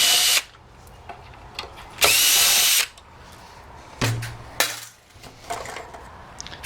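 A power tool backs screws out of a Polaris 280 pool cleaner turbine in three loud, close whirring bursts of a couple of seconds or less, with small clicks and metal clatter in the gaps between them.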